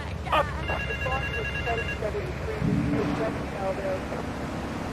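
A telephone rings in Grand Theft Auto 3, a short repeating electronic ring heard in bursts over low background rumble, with a character's voice speaking over part of it.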